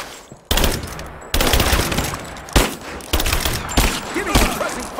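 Loud, close gunfire in Rise of the Tomb Raider: repeated bursts of rapid automatic shots with sharp individual cracks, broken by brief pauses, and with shouting voices faintly mixed in.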